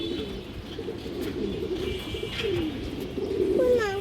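A large female Indian high-flyer Kaldom pigeon gives soft, rolling coos close by over low background hiss, rising slightly in the last second.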